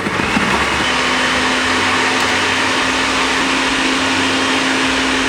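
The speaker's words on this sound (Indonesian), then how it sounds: "Ini pertama kita blender aja bawang putih dan kawan-kawannya." A kitchen blender grinds garlic and other spices for a Balinese spice paste, a loud, steady motor whir with a constant tone that runs unbroken for the whole stretch and no talking.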